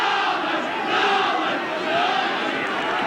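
Stadium crowd at a Wakefield versus Bradford rugby league match, a dense, sustained roar of many voices that swells slightly midway and stays loud throughout with no clear individual speech.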